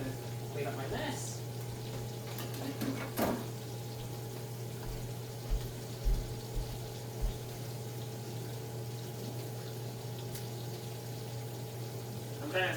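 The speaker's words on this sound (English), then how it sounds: "let it sit for about 2 minutes with a lid on, just to let everything like kind of sizzle together" Kielbasa Polish sausage sizzles in a covered pan, giving a steady low hiss and bubbling that runs throughout under a persistent hum, with a few faint clicks and no clear voice.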